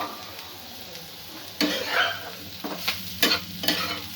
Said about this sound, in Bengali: সমস্ত উপকরণগুলো কিছুক্ষণ একটু হালকা ভাজা ভাজা হতে দেব।